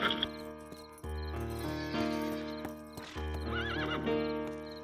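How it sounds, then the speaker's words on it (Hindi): A horse in a Hindi mythological film about the Buddha neighs sharply at the start and again near the end, with close hoof clip-clops heard in between. "और जाओ मेरा घोड़ा लेकर आओ।"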